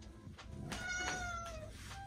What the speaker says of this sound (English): Where you at, cat?